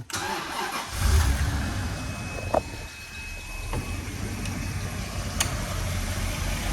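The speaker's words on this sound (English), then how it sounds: "listen to the 6 3/4 liter engine" A 6.75-liter engine in a 1995 Bentley Brooklands turns over and settles into a smooth, steady low idle that hums on without revving.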